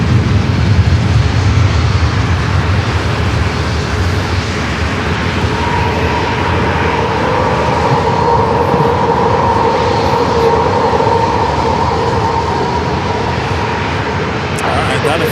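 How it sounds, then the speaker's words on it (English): Airliner bound for SFO taxiing toward runway 27 at San Diego airport, a loud continuous engine roar and rumble that rises slightly midway, with someone talking over it much of the time. "That flight to SFO finally heading over there into 27"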